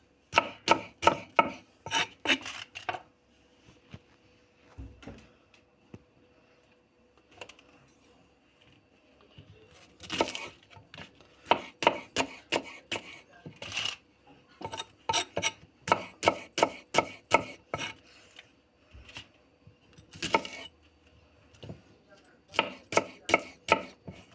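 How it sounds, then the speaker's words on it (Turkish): A knife chops onions rapidly on a cutting board in quick bursts of crisp taps, separated by short pauses, close and clear with no talking. "Soğanımızı doğrayacağım."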